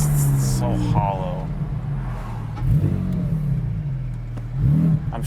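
Car with aftermarket headers and muffler revving, a hollow mid-pitched engine note that rises in a few short surges, heard from inside with people talking over it.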